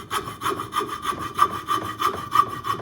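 Hand saw cutting across a carved wooden black duck decoy head, a steady rhythmic back-and-forth rasp of about ten strokes, close and clear with no talking.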